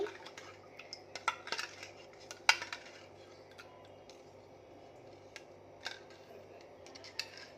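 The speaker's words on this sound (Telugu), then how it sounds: "స్పూన్ కూడా. అండ్ ఇట్లా కలిపేసుకోవాలి." A spoon clinks and scrapes against a bowl while something is mixed, giving irregular close metallic taps scattered over a quiet background, with louder knocks early on.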